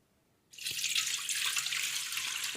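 Arrowroot mixture with water poured through a strainer starts after a brief quiet moment, giving a steady, close splashing flow that keeps going to the end, with no voices.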